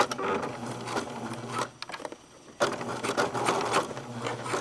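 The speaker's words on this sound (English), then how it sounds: "And I'm going to sew just along the edge here." A sewing machine stitches along the edge of an elastic casing, a steady buzzing needle rattle that pauses briefly and then resumes.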